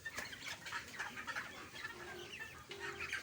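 A flock of 29-day-old broiler chickens on a farm clucks and murmurs continuously, with overlapping calls close by and no speech.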